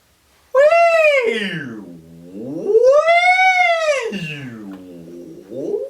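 A single voice imitates a siren, gliding smoothly up high, sweeping down low, then rising again in long wailing arcs.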